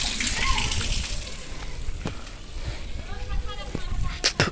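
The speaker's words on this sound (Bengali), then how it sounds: "টুটির অবস্থা দেখো সবাই জলগুলো খুলে রেখে যাচ্ছে এখানে" Water running from taps left open at a washing area, a steady close splashing flow with sloshing and occasional sharper splatters, while a person talks over it.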